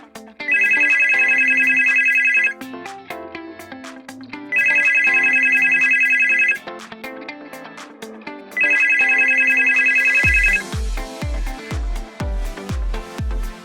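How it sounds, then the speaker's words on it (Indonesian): A telephone bell rings in three long, loud bursts separated by short pauses, followed by a series of quick descending tones. "Jangan biarkan telepon berdering lebih dari 3 kali."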